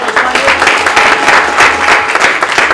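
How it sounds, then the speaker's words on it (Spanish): Loud, dense applause from an audience at a book launch, many hands clapping in a steady, continuous wash with no pause. "Un aplauso para vosotros"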